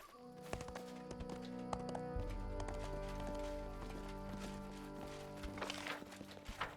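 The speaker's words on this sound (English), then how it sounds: "Hello, horse. You seem very big and magical." Horse hooves clip-clop in the video game Pathfinder: Kingmaker, a run of distinct hoof taps over a layered game music bed, with a low drone entering partway through.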